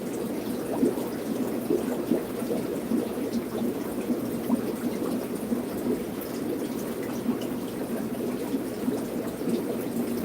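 Water runs steadily into a tall fish tank, a continuous rushing and splashing wash that holds at an even level throughout, with no talk.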